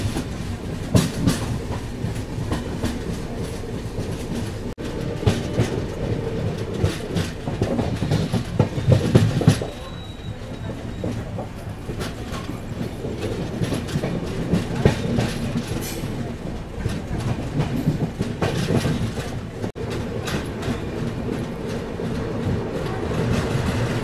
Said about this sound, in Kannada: ನಮ್ಮ ಸೋಲಾಪುರ ಹಾಸನ್ ಎಕ್ಸ್ಪ್ರೆಸ್ ಸದ್ಯಕ್ಕೆ ರೀಚ್ ಆಗಿದೆ ಶಹಾಬಾದ್ ರೈಲ್ವೆ ಸ್ಟೇಷನ್ಗೆ